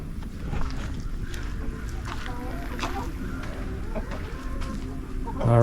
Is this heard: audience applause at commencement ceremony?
no